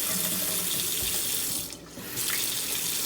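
Water pours steadily from a bathroom sink faucet during a property inspection, a close continuous splashing stream that briefly dips as the tap is adjusted, then resumes.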